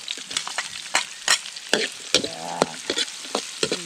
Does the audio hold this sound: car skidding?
no